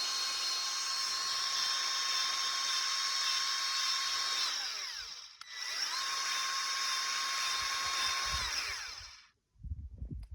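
Milwaukee cordless grease gun pumping out old grease, a loud high-pitched motor whine that runs for about five seconds, cuts off briefly, runs again and stops, followed by faint handling noise.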